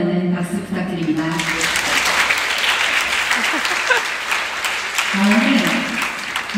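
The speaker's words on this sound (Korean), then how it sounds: "두 사람의 행복한 앞날을 응원하는 박수 부탁드립니다." Wedding guests applaud, a dense, sustained clatter of many hands filling the room after a brief announcement, steady and moderately loud throughout with voices faint beneath.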